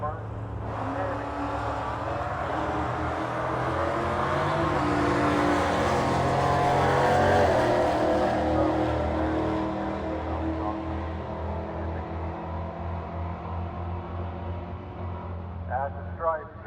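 Pro Eliminator drag cars at the Mopar Nats 2022 eliminations, including a Hemi-powered entry, launch down the lanes with a loud engine roar that swells and then fades while an announcer talks over it.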